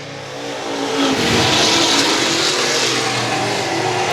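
Street stock race cars roar around a track during a heat race, a loud, steady engine drone that swells after the first second and holds near and full, with no voices.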